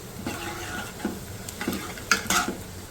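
Finely chopped garlic with cumin sizzles softly in hot oil for a red chilli garlic chutney, with quiet frying crackle and a few scraping stirs of a spoon against the pan.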